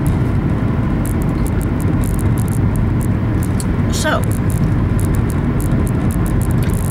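Inside a moving car on a Sunday morning drive, a steady, loud low rumble of road and engine noise runs throughout, with someone talking over it.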